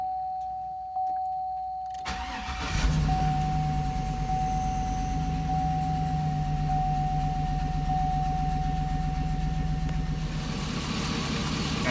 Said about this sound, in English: let's crank it up and see what happens